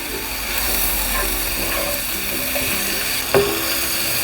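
Chicken gizzard and liver with green chillies and garam masala sizzle loudly in a hot pan while being stirred, a steady frying hiss with scraping stir strokes and a sharp clink near the end.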